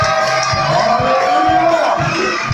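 A church congregation cheers and acclaims loudly, a dense crowd roar of shouts and whoops with voices swelling together, close and sustained with rhythmic low thumps underneath.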